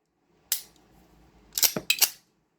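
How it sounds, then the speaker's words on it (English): An Inglis P-35 Hi-Power pistol is dry fired on a tabletop, giving a sharp single metallic click followed by a quick cluster of close, crisp mechanical clacks from the action, with no talk. "Okay, we will fire, dry fire."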